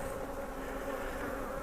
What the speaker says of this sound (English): They're looking like very happy bees at the moment.